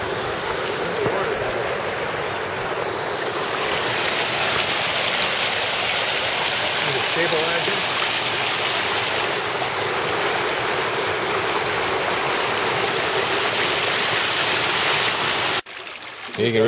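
Spring water boiling up and flowing in Fossil Creek, Arizona, a steady broadband rush of moving water that holds nearly constant for the whole stretch, close and fairly loud, with a brief dip near the end.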